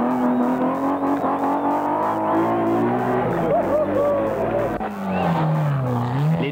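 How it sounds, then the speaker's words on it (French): Two Peugeot rally cars race on a 1988 rally stage, their engines revving loudly and continuously, with the pitch rising and falling as they accelerate and pass. "Les deux Peugeot se suivent."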